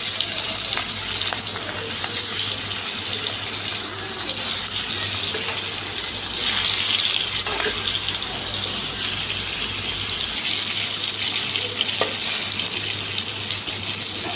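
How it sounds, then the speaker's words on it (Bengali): Marinated surma fish frying in hot oil, a loud, dense, continuous hiss and sputter with a steady low hum beneath, no talking. "তেলটা যখন গরম হয়ে আসবে তখন মেখে রাখা মাছগুলো একটা একটা করে দিয়ে দেব তেলের মধ্যে।"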